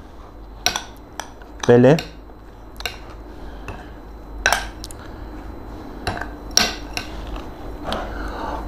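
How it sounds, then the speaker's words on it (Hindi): A spoon clinks and scrapes against a bowl while garlic paste is stirred into a heart tikka marinade, with about a dozen sharp, separated taps and a brief talking voice. "अब इसको मैं अच्छी तरीके से मिक्स करूँगा।"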